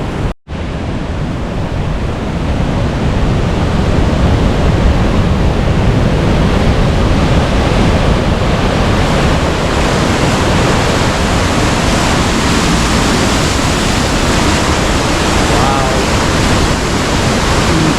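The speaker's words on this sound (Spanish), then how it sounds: "Madre mía, cómo va esto de agua" Floodwater rushes past the Santo mill near Benaoján station, a loud, unbroken roar of churning water filling the whole clip with a dense, steady rumble and hiss.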